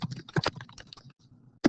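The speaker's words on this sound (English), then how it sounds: "as I'm typing" Typing on a computer keyboard while a document is being named and created, with irregular clusters of close, crisp key clicks followed by a brief pause and one final sharp keystroke.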